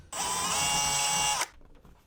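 A power drill widens holes in stone with one steady, close, high-pitched whine that runs for over a second and then cuts off abruptly, with no talking.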